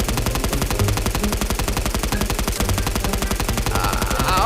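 Rapid automatic gunfire from a gun in VRChat, a dense, evenly spaced stream of loud shots that continues without pause.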